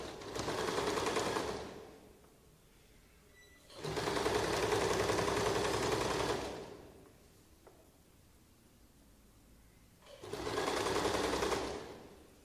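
A sewing machine stitches a cotton kurti in three bursts of fast, rapid whirring, each lasting a couple of seconds, separated by pauses of near quiet, close and loud.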